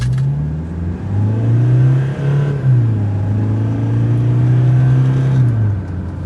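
A Toyota Hilux 2.8 diesel engine revs and accelerates, its deep drone climbing and dipping in pitch as the pickup pulls hard, with no talking.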